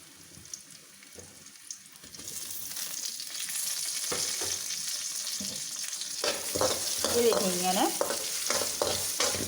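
Chopped banana pieces sizzle in oil for a Kerala pulissery while being stirred, a soft frying crackle that grows louder with clinking utensil scrapes near the end and a brief spoken word.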